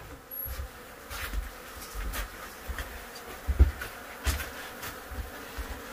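A swarm of killer bees drones continuously in a steady, close buzz, with occasional faint knocks and handling noises beneath it.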